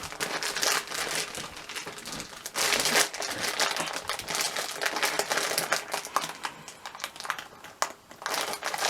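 Plastic mozzarella bag being pulled and torn at in a kitchen, producing continuous close crinkling and crumpling with sharp rustles throughout and no talking.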